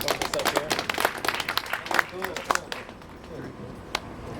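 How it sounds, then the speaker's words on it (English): Workshop audience applauding a cigar box guitar builder at a performance, scattered hand claps in a loose burst that fades out, with talk mixed in. "We'll give Doug a round of applause for this up here."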